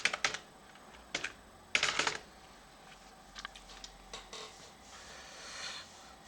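Keys clatter on a computer keyboard in short irregular bursts of rapid clicks, close up, separated by brief pauses, with no speech.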